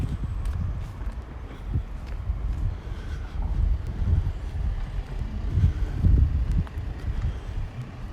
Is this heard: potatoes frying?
no